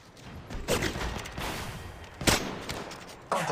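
Gunfire in the mobile game Apex Legends Mobile, played on a Xiaomi Redmi 10, comes in several short, scattered bursts of shots of moderate loudness.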